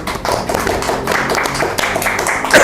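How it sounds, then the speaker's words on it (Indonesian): An audience claps steadily at a live talk show event, a dense wash of many hands close and loud, continuing without pause for a few seconds. "Tepuk tangan dong."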